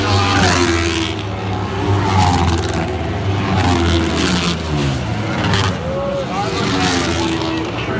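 Race cars roar around the dirt track at Lima during a heat race, engines loud and close with rising and falling revs as cars sweep past, a commentator talking over the noise throughout.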